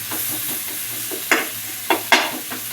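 Tomatoes frying in a pan for peanut chutney, a steady close sizzle running throughout, broken by a few louder scraping stirs of a spoon near the end, with no voices.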